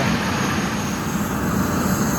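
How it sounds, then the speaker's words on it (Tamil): Helicopter flight over the Grand Canyon in the USA, heard as a steady, loud, broadband engine and rotor roar that continues without a break from the cabin throughout. "இன்னைக்கு வாழ்க்கையில் முதல் முறையாக ஹெலிகாப்டர் பயணம்"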